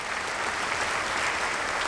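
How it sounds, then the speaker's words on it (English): A dense, even burst of applause from a large audience at a graduate commencement ceremony, heavy continuous clapping with no voices standing out. "let's give all of those people who have helped a round of applause"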